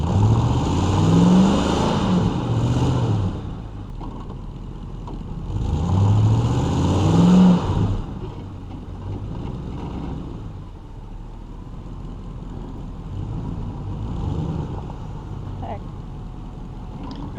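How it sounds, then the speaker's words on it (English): Two pickup trucks chained together strain to pull an RV trailer across a property, their engines surging twice in loud rumbling revs, then settling into a lower idle with a voice talking over it. "So when we chained our trucks together, his truck gave just enough to be able to pull the trailer to where I want it on the property."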